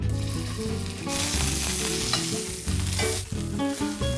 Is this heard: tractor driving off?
no